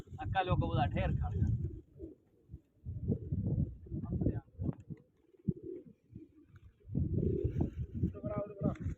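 Pigeons, including a black Peshori pigeon, coo in low repeated throaty bursts close by, with voices talking around them.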